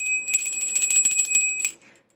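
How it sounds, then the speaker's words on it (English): A bright notification bell rings in a quick cluster of metallic chimes, close and clear for about a second and a half before cutting off into silence. "don't forget to ring the bell"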